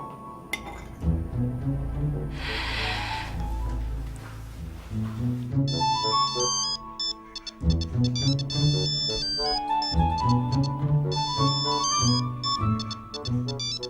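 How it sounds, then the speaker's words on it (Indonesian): A mobile phone plays a melodic ringtone during a mealtime scene in an Indonesian TV drama. The bright, looping tune of tones sounds steadily and fairly loud for the whole stretch. "Mbak Musain telepon"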